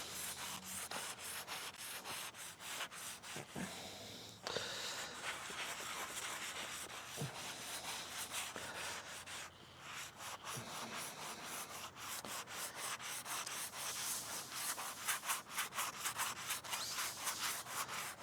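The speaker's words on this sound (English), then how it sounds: "I'm gonna take this sandpaper and I'm just gonna get to sanding" Sandpaper rubbed by hand over wooden boat trailer bunk boards gives a steady, fairly quiet run of rasping back-and-forth strokes close by, with only brief pauses.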